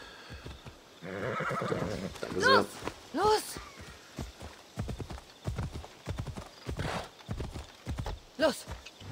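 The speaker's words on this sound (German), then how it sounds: "Pferd." In the Assassin's Creed Odyssey video game, a horse gives several high whinnies and clip-clops along at a lively pace, with hoofbeats in a quick rhythm under someone talking in German over the game sound.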